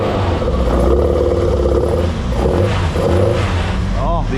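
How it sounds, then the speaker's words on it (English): A historic touring race car warming up through a heat cycle, its engine induction roaring loud and steady at close range with a rumbling low drone. "Oh, the induction noise."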